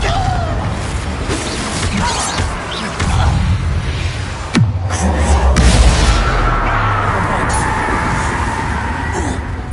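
An explosive Confringo spell goes off in a wizard game: a sudden sharp blast and crash cut through the rumbling, busy battle noise partway through, followed by a roaring, sustained low boom.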